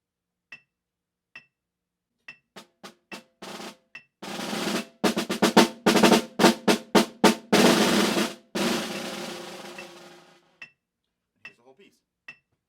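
A snare drum plays a middle-school etude line: scattered single strokes lead into sustained rolls that slow into a retard, then sparse isolated taps, close and crisp.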